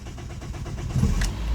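Cranking of a 1999 Dodge Stratus engine that starts hard, a rhythmic starter churning close by that builds into a rougher surge near the end, with no talking.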